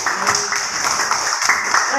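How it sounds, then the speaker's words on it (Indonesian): Audience applause at a school seminar session in a junior high school, a continuous wash of clapping with voices mixed in underneath. "Atau kita berikan tepuk tangan untuk supaya semangat."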